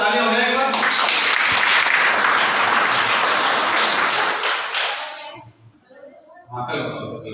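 Applause at a school seminar in Mathura, a loud, dense burst of clapping that rises after a brief spoken moment, holds for several seconds, then cuts off abruptly as a person resumes talking.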